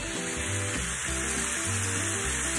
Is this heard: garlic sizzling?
yes